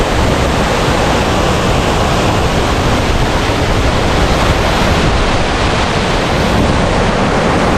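The Punnayar waterfall roars loud and close, a dense, unbroken rushing wash of falling water with no pauses or voices.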